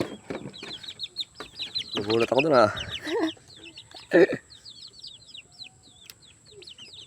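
Chickens in a coop cluck and squawk nearby in quick, uneven bursts, with softer chirps carrying on throughout, while a person speaks briefly.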